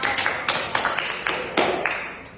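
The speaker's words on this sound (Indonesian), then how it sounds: "Oke, kita tepuk tangan untuk Al." A small group at a group counseling session claps for Al with a handful of loose, uneven claps in a quick rough rhythm, close by and fairly soft.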